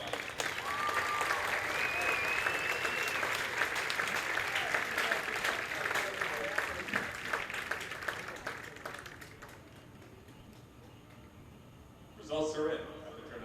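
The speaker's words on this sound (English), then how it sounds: "Round of applause, everybody." Loud, sustained crowd applause after a marching band performance at an evening competition, with a few whistles, tapering off after about ten seconds before a voice briefly speaks.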